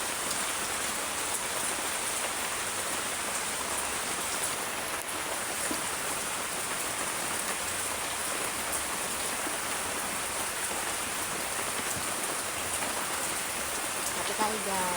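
Heavy rain pours steadily onto a wet table, a dense unbroken hiss with scattered drips and splashes on the surface, loud and close throughout.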